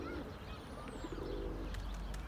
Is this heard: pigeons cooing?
yes